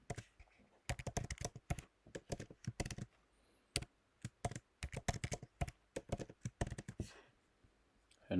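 Irregular bursts of close computer-keyboard keystrokes as a passphrase is typed, with short pauses between clusters of clicks and no talking.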